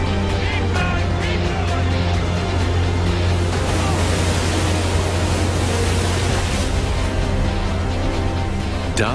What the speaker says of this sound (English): the weather has improved, but the seas are still heavy